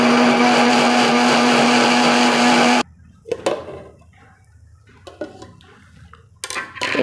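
Fruit being crushed for strawberry ice cream: a loud, steady machine whir runs for about three seconds, then cuts off abruptly, leaving scattered light clinks and knocks.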